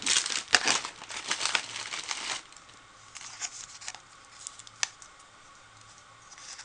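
Plastic ribbon packaging crinkles and crackles as it is opened while making a card, with a dense burst of rustling in the first couple of seconds followed by sparser, quieter crinkles and a single sharp click.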